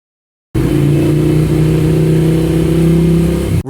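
A Ducati Scrambler 800 motorcycle engine in second gear starting abruptly and holding a loud, steady close drone with a slight rise in pitch as it accelerates, then cutting off.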